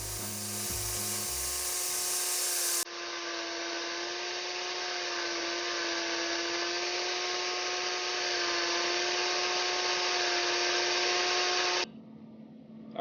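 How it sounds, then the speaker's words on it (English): An angle grinder with an abrasive wheel rounds off wooden knife handle scales on a butterfly knife, giving a loud, steady high-pitched whine that shifts tone once early on and cuts off near the end. "Now I'm going to round it all out with a abrasive wheel on an angle grinder."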